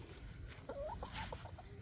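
Soft clucking from chickens, a few short calls close by over a low background rumble.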